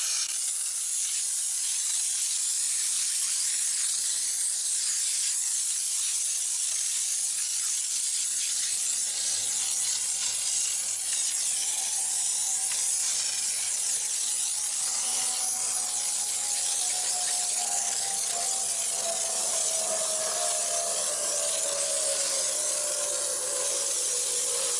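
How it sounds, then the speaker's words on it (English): An IK9 foamer spraying foam onto a car's front wheel, a loud continuous pressurized hiss lasting throughout, with a faint rising whine in the background. "got my IK9 foamer. And we're going to hit this front wheel"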